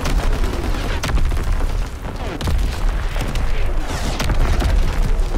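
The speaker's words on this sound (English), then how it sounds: "Firing primary battery." An artillery battery fires in Call of Duty: WWII on the Gibraltar map, with dense, continuous booms and blasts rumbling throughout, loud and chaotic.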